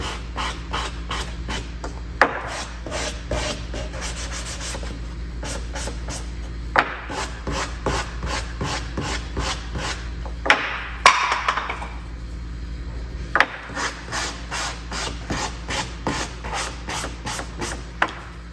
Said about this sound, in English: There's my sanding block, sand off the edges.